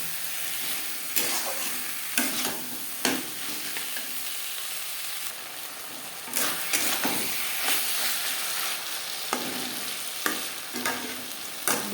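Spices fry in a pan for a Bengali fish curry with broad beans, a steady close sizzle broken by about a dozen sharp scraping stirs spread across the stretch, with no one talking.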